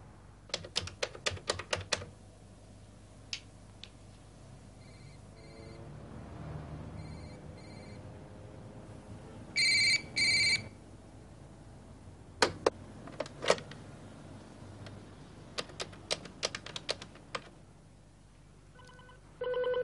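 Office telephone bell ringing in repeated bursts in an otherwise empty building at night, part of a crime reconstruction; rings are clear and fairly loud against a quiet, low background hum, with no talking.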